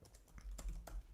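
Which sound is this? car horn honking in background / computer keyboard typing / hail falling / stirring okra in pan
computer keyboard typing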